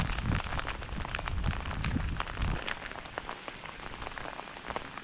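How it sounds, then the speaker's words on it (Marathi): Rain falls steadily on a surface nearby in a field during ploughing, a dense patter of drops with scattered louder splats, no voices. "पाऊस हा बघा पडायला सुरुवात झाली आहे"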